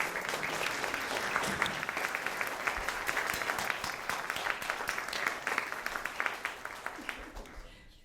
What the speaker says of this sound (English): Let's give a round of applause for Jim Burton